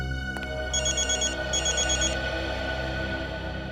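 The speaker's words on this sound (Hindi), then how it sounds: "अभिजीत का फोन है।" A telephone rings in two clear electronic bursts over a steady low background hum, with no talking.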